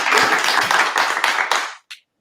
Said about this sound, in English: let's give a big warm welcome, a big applause, big hand for Andrew